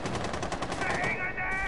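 Rapid automatic gunfire rattles in a video game match, a quick burst of repeated shots up close, followed by a brief electronic tone as the firing fades.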